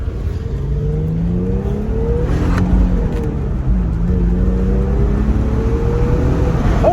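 Engine of a manual Infiniti G37 under way, a loud steady drone with shifting harmonics as revs climb, dip and climb again, with road and wind rumble filling the background and no talking.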